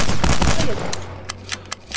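A shotgun firing in Garry's Mod: a loud, dense blast that fades, then several sharper, fainter pops spaced out behind it.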